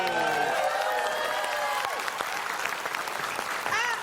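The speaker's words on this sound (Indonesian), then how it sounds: "Penonton tepuk tangannya jangan kenceng-kenceng" A studio audience on an Indonesian TV quiz show applauds steadily and loudly, dense clapping running throughout, mixed with cheering and whistling tones and some crowd voices.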